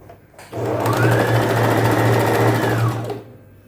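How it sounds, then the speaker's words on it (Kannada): Sewing machine stitching through folded cloth, with one continuous close motor whir of about two and a half seconds that starts and stops cleanly, with quiet room tone around it. "ನಾನು ಒಂದು ಸ್ಟಿಚ್ನ ಹಾಕ್ತಾಯಿದ್ದೀನಿ"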